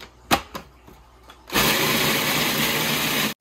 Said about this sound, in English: we're gonna use the food processor to grind it up, make it more fine